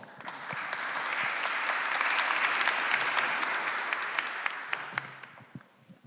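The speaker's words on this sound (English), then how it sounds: "Let's welcome Professor with applause." Audience applause at a university anniversary ceremony marking cooperation between AGH University and Shibaura Institute, a dense sustained clapping from a large crowd that swells, holds steady for several seconds, then thins to scattered claps before fading.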